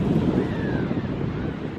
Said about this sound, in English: It's quite windy along this little bit